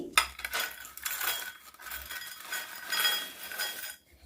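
Fried crispy pasta is tipped into a bowl, giving a scatter of light clinks and rattles. The sound is close and moderately loud, with brief bursts spread across the moment and no voices.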